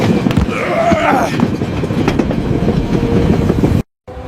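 A train rolls along the rails on its way toward Calcutta across India, a loud, close rumble with rhythmic clickety-clack that breaks off abruptly near the end.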